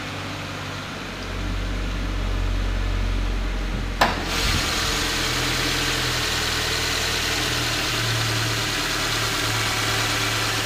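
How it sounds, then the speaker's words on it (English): A 2-liter boxer engine in a Subaru Impreza idles high while still cold, a steady mid-pitched hum that holds evenly throughout. One sharp knock interrupts it about a third of the way in. "This car is cold, that's why it's idling as high as it is."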